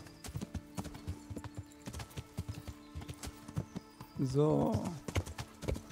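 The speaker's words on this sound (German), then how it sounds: "Kleines Pferdchen. Du rennst jetzt durch die Walachei." A horse galloping in the video game Kingdom Come, with rapid hoofbeats drumming close and clear, and someone talking briefly near the end.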